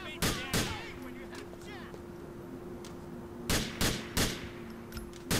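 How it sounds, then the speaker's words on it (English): Gunfire in the police mod LCPDFR for GTA, a few sharp shots near the start and another quick run of shots near the end, loud and close over a steady background hum, with voices talking. "Shots fired on two."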